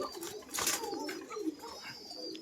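Pigeons at a pigeon farm coo softly, a few low burbling calls against faint background activity, fairly quiet and close.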